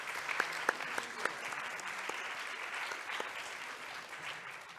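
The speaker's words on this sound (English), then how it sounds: "How about a hand of applause for those singers?" An audience at an outdoor apology event claps for the singers, a steady, fairly soft wash of applause with a few sharper individual claps standing out early on.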